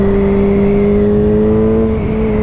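A Yamaha XJ6 motorcycle engine, a 47.5 hp A2-restricted bike, pulls steadily under throttle with a strong, even engine tone whose pitch shifts slightly near the end, close and loud throughout.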